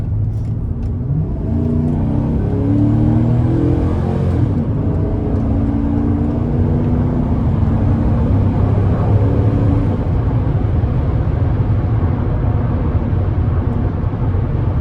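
A 2012 GMC Sierra 1500 regular cab work truck with a 4.8 V8 and four-speed automatic accelerates hard onto an interstate, a steady loud engine drone with rising harmonic tones, heard from inside the cab with no talking.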